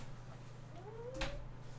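A single soft cat meow, a short rising and falling cry, sounds faintly over a steady low electrical hum in a room.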